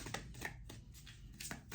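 Tarot cards being shuffled by hand in a rhythmic series of soft, quick riffling bursts, faint and close with no talking.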